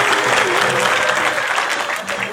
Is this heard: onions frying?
no